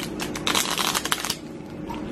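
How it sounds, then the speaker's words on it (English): A deck of stiff playing cards being shuffled up close, a dense riffle of crisp flicks for about a second, then a quieter tail with no talk. "because I have nails right now, it's so hard to shuffle"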